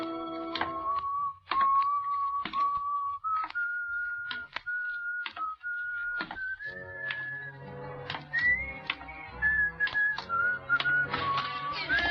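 A man whistles a rising, familiar tune close up in a 1944 suspense radio drama, a clear melody broken by sharp knocks and thumps between phrases.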